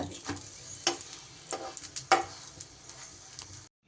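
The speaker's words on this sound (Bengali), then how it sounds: "একই রকম করে প্রত্যেক কটা উল্টে পাল্টে এইভাবে ভেজে নিতে হবে" Garlic paratha frying in a pan and being flipped, with a soft steady sizzle broken by several sharp clacks and scrapes of the turner against the pan.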